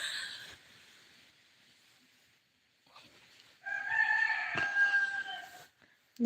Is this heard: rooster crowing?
yes